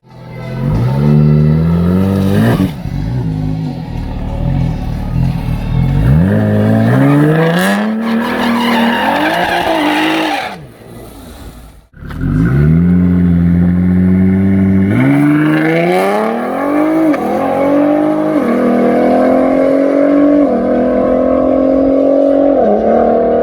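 A race car on a private rental track, loud and close, its engine note climbing repeatedly through the gears. A brief lift-off drops the sound about halfway through before it rises again with hard revving and some tire squeal.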